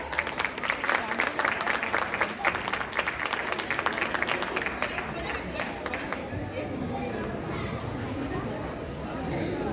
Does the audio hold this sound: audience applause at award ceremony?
yes